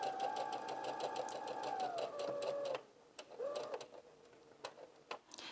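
A sewing machine stitches fabric during a McCall's 7906 project. It runs in a fast, even mechanical whir for close to three seconds, then stops, and a few short bursts and clicks follow. It is quiet overall and no one speaks.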